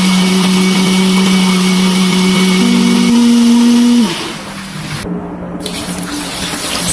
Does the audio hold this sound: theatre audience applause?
no